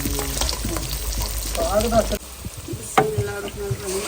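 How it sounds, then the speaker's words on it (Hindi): Garlic tempering in oil sizzles and crackles steadily in a pan, a close frying hiss with occasional pops and a brief voice, in a village kitchen in Pakistan. "तड़का लग चुका है"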